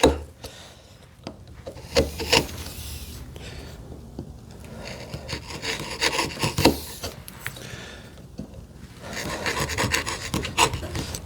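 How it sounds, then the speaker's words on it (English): A chisel pares wood, working against a knife wall during hand-tool joinery for a TV unit, making short rasping strokes in uneven bursts with pauses between them, close and fairly quiet. "using half of my chisel to get the initial cut"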